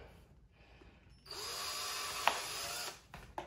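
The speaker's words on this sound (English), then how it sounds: "And we're going to drill a hole over here." A drill runs in one steady burst of about a second and a half, a high whirring hum, with a brief click in the middle and quiet before and after.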